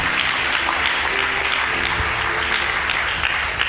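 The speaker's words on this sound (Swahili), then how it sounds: "Ongeza makofi kwa Yesu" Congregation applauding for Jesus at a Swahili church service, a loud, dense wash of clapping sustained throughout with no break.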